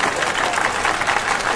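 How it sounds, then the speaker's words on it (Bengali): Brief burst of crowd applause as the second-place winner of a photo contest is called to the stage, steady and fairly close throughout. "তার জন্য করতালি।"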